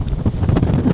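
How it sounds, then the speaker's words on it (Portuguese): Strong wind roars across the microphone aboard a sailboat at sea near Ibiza in high waves, a loud continuous buffeting rumble for a brief moment. "O vento está subindo"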